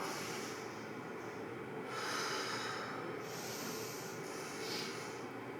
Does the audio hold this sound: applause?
no